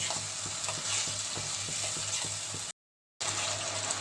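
Spices with tomato paste sizzle and crackle in a hot pan while a utensil stirs in steady strokes; the sound cuts out briefly before the frying resumes.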